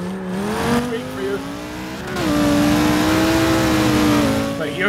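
A V10-swapped Mustang in Forza Motorsport 6 revs hard, its loud engine note climbing and holding high in third gear with a brief dip midway, alongside faint tire noise.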